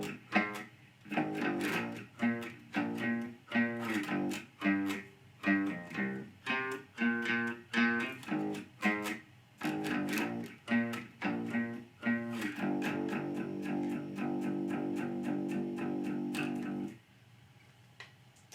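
Bass guitar working through the pre-chorus of a song, a run of steady, evenly spaced plucked notes with a distorted, effected tone, ending on a long held note before it cuts off.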